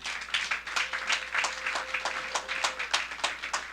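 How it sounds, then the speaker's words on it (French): A church congregation applauding at a sermon, a steady patter of many hands clapping in an uneven rhythm, moderately faint and heard alone. "Est-ce qu'on peut acclamer pour le Seigneur?"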